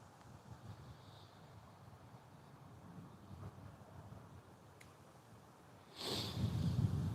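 Outdoor wind buffets on a blustery day at a carp fishing spot, a low steady rumble that swells into a louder gust near the end, with no talking.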